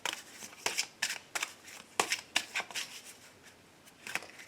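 Oracle cards are shuffled by hand for a tarot reading, giving a steady run of soft, papery flicks and riffles, close and quiet, with no talking.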